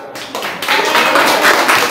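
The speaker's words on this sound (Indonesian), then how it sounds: "Oke, boleh tepuk tangan." Students in an Indonesian classroom clap after a group presentation. The clapping is brief and close, starting with a few taps and then swelling into a full burst.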